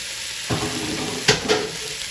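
Venison searing in about two tablespoons of olive oil in a pan over medium-high heat, a steady close sizzle with a few brief louder bursts.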